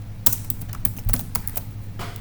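Irregular clicking of keys on a computer keyboard while coding a Laravel web page, a dozen or so close, crisp taps in uneven bursts over a steady low hum, no voices.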